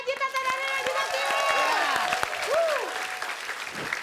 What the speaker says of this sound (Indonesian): Kita kan tepuk tangan buat Narji, tanda Narji Najis.